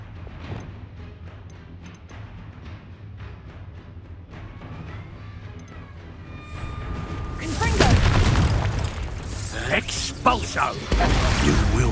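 Spell blasts from the Expulso explosion spell boom repeatedly during a Hogwarts Legacy battle, with a loud burst of explosive rumble and crackle in the second half over game music and combat sounds.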